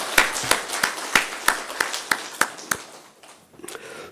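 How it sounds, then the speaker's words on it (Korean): A single person claps about ten times in a steady rhythm during a church service, close and crisp, then the claps fade into quiet room noise. "크게 박수로 환영하겠습니다"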